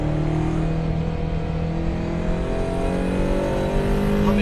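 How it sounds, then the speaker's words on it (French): A Ferrari 308 GTB on the road gives a strong, continuous engine and intake drone with clear harmonic tones, rising slightly in pitch toward the end as the car pulls. "Ah mais ce bruit d'admission il est extraordinaire."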